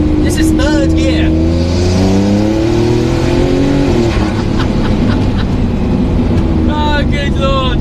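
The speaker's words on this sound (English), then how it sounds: "And I think people underestimate the importance of sound. But with this thing, this is third gear." A W Motors Fenyr Supersport hypercar engine pulls hard in third gear, a loud rising roar with gear changes, heard close from inside while a person talks over it.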